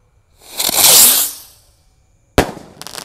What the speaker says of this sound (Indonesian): Selanjutnya kita akan menyalakan merton ski cruiser. Ini yang warna merah ya. Ini terbang, lalu meledosnya seperti Roman candle.